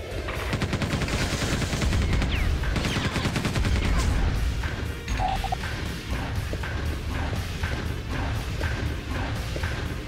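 Rapid machine gun fire in Quake 2 64 rattles in a fast dense burst, followed by scattered heavier blasts and impacts amid game noise.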